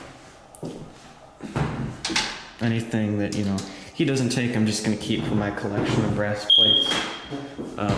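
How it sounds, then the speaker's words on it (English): A single brief high electronic low-battery chirp from a smoke alarm sounds once, cutting through someone talking nearby over faint clatter. "Yes, that is the smoke alarm, and yes, the battery is low."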